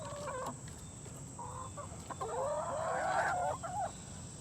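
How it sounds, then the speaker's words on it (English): Chickens clucking and crowing nearby, a few short clucks followed by a longer rising squawk call, fairly close and alone with no talk. "we nicknamed her Hitler because she's a German chicken"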